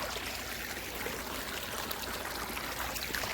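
Steady stream of running water used for washing the face in a Gir village, a continuous soft rushing and trickling at moderate distance with no talk.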